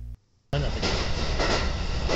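Inside a JNR 213 series train on the Ako Line arriving at Bizen-Fukukawa station, a brief hush breaks into a loud, continuous cabin rumble and rattle that stays close and steady.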